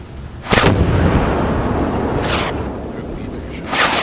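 Three heavy tank cannon shots in the Armored Warfare video game, each a sharp booming blast that rolls off into a long rumble, spaced a second or two apart.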